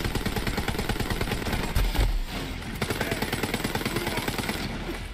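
Dense, rapid automatic gunfire from the video game Borderlands 3 rattles on steadily, loud and continuous, with a brief heavier burst partway through.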